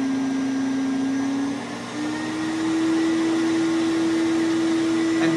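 A 1991 Black and Decker CA1440 vacuum cleaner running on carpet, a loud steady motor whine that dips briefly and then climbs back to a slightly higher, sustained pitch, with no talking.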